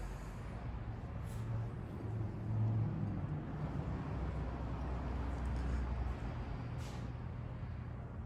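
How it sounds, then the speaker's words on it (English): Traffic rumbling in through the open doors of a two-story modular home, a faint, steady low drone of passing vehicles with a slight swell partway through. "That's why you may still be picking up a little bit of that traffic noise."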